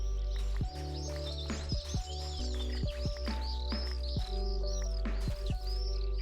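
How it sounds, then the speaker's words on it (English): Loud birdsong in the Minecraft video game, with repeated chirps and calls over a steady low background drone, some sharp descending notes recurring throughout. "There's some loud bird sounds."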